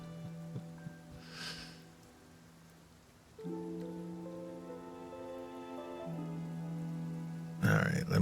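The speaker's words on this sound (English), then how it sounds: "This rain is really wonderful weather." Rain falling in the video game Infinity Nikki: a steady soft hiss that runs throughout beneath sustained musical tones, with a short, sharper burst near the end.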